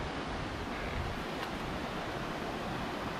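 A waterfall in the Philippines roars as a steady, dense broadband rush, close and continuous with no pauses, with some wind buffeting on the microphone.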